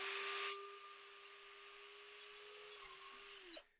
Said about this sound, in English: I'm just going to hold that in place and then drill that through.